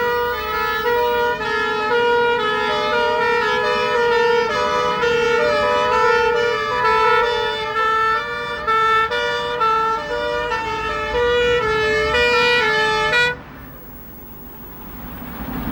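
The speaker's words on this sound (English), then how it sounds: "A command vehicle, hydraulic platform and pump engine respond to a call." A fire service convoy of a command vehicle, a hydraulic platform and a pump engine heads to a call with sirens wailing steadily and loudly in a repeating two-tone pattern for about thirteen seconds, then cutting off and leaving only the engine rumble.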